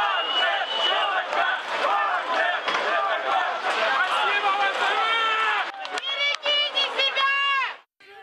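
Citizens in Rostov-on-Don, southern Russia, cheer Wagner Group mercenaries leaving the city after abandoning their mutiny; a dense crowd of voices shouts and whoops continuously and loudly, with excited cries rising toward the end.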